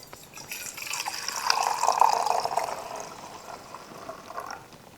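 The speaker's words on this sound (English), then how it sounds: "then I pour the rest of the water in" Hot water trickles steadily over ground decaf coffee in a pour-over brewer, a soft close stream that swells in the middle and then tapers off, with no talking.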